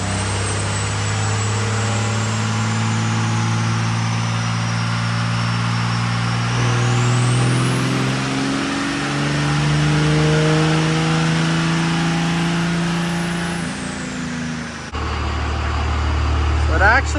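A 24-valve Cummins diesel truck engine revs up and holds high under a hot tune, a loud rising and falling drone with harmonics sweeping upward, then dropping back to a rough idle near the end.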